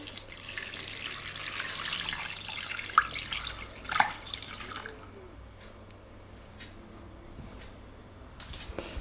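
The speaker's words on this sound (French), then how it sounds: "Ensuite, on les recouvre d'1 litre d'eau." A litre of water, tap or bottled, pouring over ivy leaves in a pot, a continuous splashing rush for about four seconds that then eases into softer trickling and a few drips, close by with no talk.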